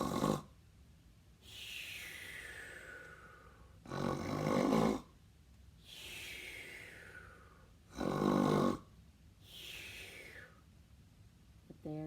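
Children imitate snoring at a preschool storytime, with several drawn-out breathy snore sounds repeating in a slow, regular rhythm, alternating with rougher, louder snorts, all fairly soft.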